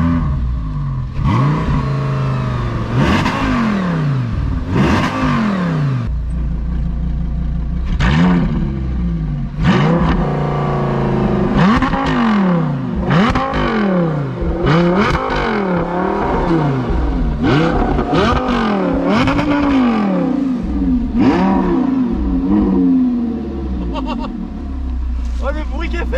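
Ferrari Testarossa engine revving outside, loud repeated blips that climb and fall, more than a dozen revs in steady succession, some hitting the limiter, with people talking excitedly over it.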